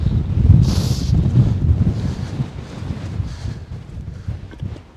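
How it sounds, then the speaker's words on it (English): Strong wind roars across a Scottish Highlands mountain summit, the 901-metre Corbett Ben Oder, as a steady, loud, buffeting rush with gusts battering the microphone throughout. "the wind's picked up a lot"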